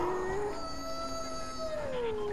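A Fortnite character lets out one long, wavering howl that rises and bends in pitch, heard alone over a steady low game background.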